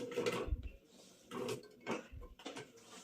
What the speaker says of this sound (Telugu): ఇలా కట్ చేసుకున్న ముక్కలన్నీ ఇలా కుక్కర్లో వేసుకోవాలి.